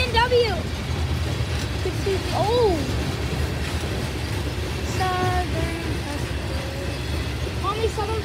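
A Norfolk Southern freight train rumbles past at close range with a steady, loud roar of wheels and engines, while someone talks over it.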